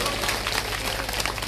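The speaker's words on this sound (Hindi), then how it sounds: "ऐसे लोगों के लिए जोरदार ताली बजा दो" An audience at an outdoor Bhagwat katha in Khoda, Noida claps loudly and steadily in a dense, continuous burst of applause, close and without pause.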